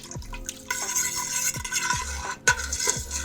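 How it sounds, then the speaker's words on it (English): A spoon stirs kumquat puree mixture in a pot, giving a run of close, wet scraping and sloshing strokes with a few sharper knocks against the side, and no voices. "I'm just gonna give a little stir"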